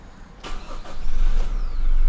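A car engine cranks and catches, then settles into a steady, rising idle rumble close by; a four-door automatic lifted pickup.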